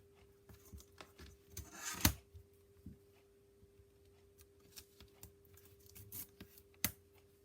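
Scissors cutting paper for a junk journal, faint close snips and rustles scattered across a quiet indoor background with a steady low hum.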